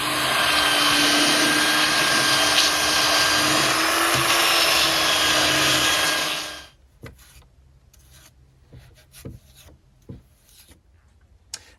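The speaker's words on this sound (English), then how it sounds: "next we're going to move on and do some sanding" Steady, loud rasping hum of a power sander on a wooden desk top for about six seconds, then it stops, leaving faint knocks and handling noises.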